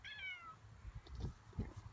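A cat gives a single short, close meow at the start, followed by faint soft bumps and rustling.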